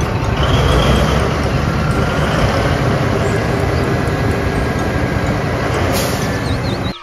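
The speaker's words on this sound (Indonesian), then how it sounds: "Di sini ada truk tambang." A toy mining truck loaded with coal gives a continuous loud rumbling, grinding noise throughout, steady with no pauses and no talking.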